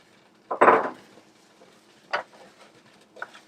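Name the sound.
spinach tossed into a pan of warm olive oil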